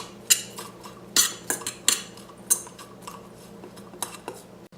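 Chopped green onion tossed into a bowl of Lithuanian beet mixture, with a utensil clinking against the bowl in a series of sharp, close taps and scrapes and no speech.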